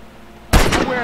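A single sharp gunshot in Grand Theft Auto with a realistic ragdoll bullet physics mod bursts out after a quiet moment, followed by a brief ringing echo.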